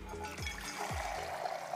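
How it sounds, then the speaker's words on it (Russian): Hot water streams steadily from an opened tap at a country dacha, a soft continuous flow heard close by with no voices over it. "А тут просто вообще кран открываешь, и вода течет."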